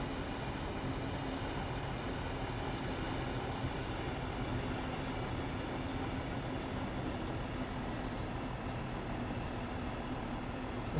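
Trains in Train Sim World 2 run past on the other platform, heading towards Gravesend. They make a steady, faint, continuous rail rumble with an even roar throughout and no voices.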